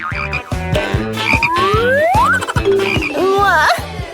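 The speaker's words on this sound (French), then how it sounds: "Non, c'est un crapaud." A toad croaks repeatedly in a steady, loud rhythm, with pulsing low croaks close by and other chirping calls over the top.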